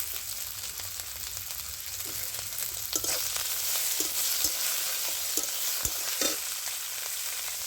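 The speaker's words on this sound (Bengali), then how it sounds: "তো এখানে আমি ঘুষা চিংড়ি মাছটা দিয়ে দিচ্ছি।" Small shrimp frying in hot oil in a pan with browned onion and bay leaves, a continuous moderate sizzle with scattered pops and stirring scrapes.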